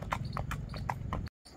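A pure Punjab Nukra mare's hooves clip-clop on a stud farm in a steady, even rhythm of close, distinct beats, broken by a short silent gap near the end.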